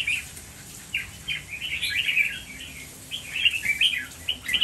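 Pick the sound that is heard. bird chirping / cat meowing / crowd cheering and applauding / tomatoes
bird chirping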